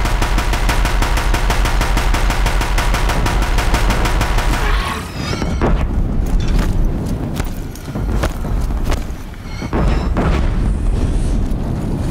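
Heavy, loud, continuous gunfire from Deathbringer guns in Horizon Zero Dawn, a rapid steady fusillade for the first five seconds, then scattered booming shots and impacts continuing throughout.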